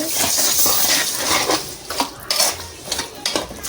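Tamarind juice stirred in a metal pot for a brinjal and dried fish curry, with close, loud scraping and clinking of a spoon against the pot in uneven strokes.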